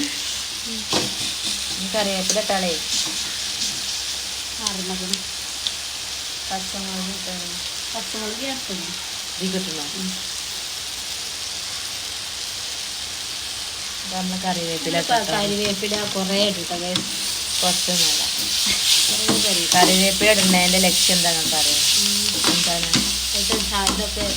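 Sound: onions sautéing in a pan

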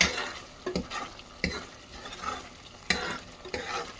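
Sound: stirring mutton curry with coriander powder in a pan

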